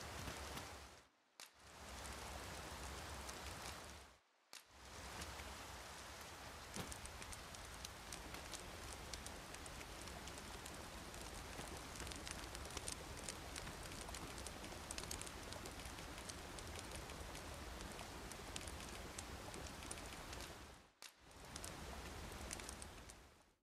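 Steady rain in Dragon's Dogma 2, a dense even hiss that holds for most of the stretch, broken by three brief near-silent gaps.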